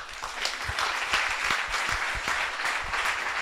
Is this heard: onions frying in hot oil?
no